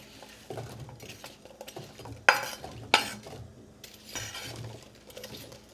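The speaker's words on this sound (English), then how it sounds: "Now we're gonna add our apples to the pan." Apples tumble into a pan holding a little grass-fed butter, giving two sharp clattering knocks in the middle, with soft stirring scrapes and faint sizzling around them, close and fairly quiet.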